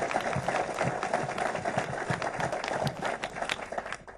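Audience applause for voters at a veterans home groundbreaking ceremony in Lebanon, a dense, steady wash of many hands clapping at close range with crowd noise, sustained throughout.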